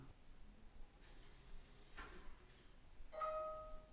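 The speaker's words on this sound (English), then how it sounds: "The front door is locked." Eufy Smart Lock Touch on a front door, locking: faint mechanical clicks and a brief bolt whir spaced over a few seconds, then a clear two-tone electronic beep near the end, close and quiet.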